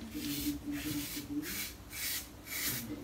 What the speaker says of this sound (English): buffing against the grain here, but the razor's so smooth and it just peels through the hair